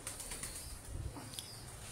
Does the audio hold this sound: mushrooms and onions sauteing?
no